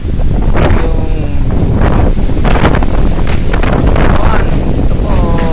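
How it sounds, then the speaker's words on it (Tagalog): Strong wind from Typhoon Uwan roars continuously and loudly, buffeting the microphone in sustained gusts without pause. "Kasi ang lakas ng hangin."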